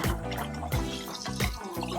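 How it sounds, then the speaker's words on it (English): Warm water runs steadily from a tap while snow crab legs are rinsed in a kitchen, a close, continuous splashing flow with a few louder surges and no talking. "I use warm water because I want to clean, but I don't want hot water."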